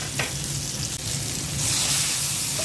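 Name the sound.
eggplant added to hot pan, sizzling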